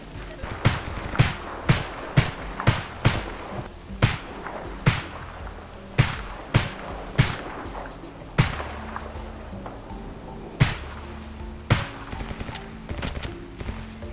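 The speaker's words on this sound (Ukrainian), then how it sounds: "по мені ще стріляють е, з іншої сторони" Sharp gunshots crack out in an irregular series in the video game S.T.A.L.K.E.R. Anomaly, single and paired shots spaced over a steady background hum.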